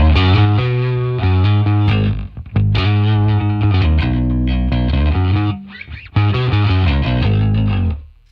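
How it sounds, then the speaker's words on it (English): Electric guitar in stereo, neck pickup through an Ampeg SVT and bridge pickup through a Marshall amp, plays loud, sustained distorted chords with brief gaps between phrases and no talking. "the sound is the neck pickup through SVT and the bridge pickup through a Marshall kind of"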